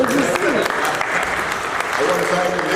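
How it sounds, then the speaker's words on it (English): Audience clapping at a Ghana Independence celebration and flag raising ceremony: dense, even applause continuing for about three seconds, with a voice faintly audible underneath. "clap for that"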